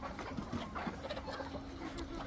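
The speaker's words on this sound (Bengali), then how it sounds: "এই দেখো কত মুরগি" Many desi chickens cluck and squawk in scattered, overlapping calls around a farm, moderately close, with steady background noise and no talk.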